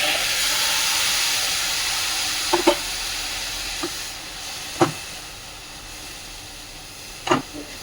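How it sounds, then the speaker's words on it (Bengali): Sugar syrup pours into a hot semolina laddu mixture, giving a broad steady sizzling hiss with a few soft clinks and taps of utensils scattered through it. "তো এখন দিয়ে দিচ্ছি চিনির রস"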